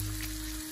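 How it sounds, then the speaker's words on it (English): Bacon sizzles in a pan while frying, a soft, steady crackle in a brief stretch with no voice over it. "Nice and sizzling, you hear it."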